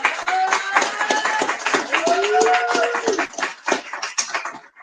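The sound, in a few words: audience applause at book presentation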